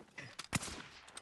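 Gunfire in the video game Warzone, a few sharp distant shots with one louder crack in the middle, brief and quiet.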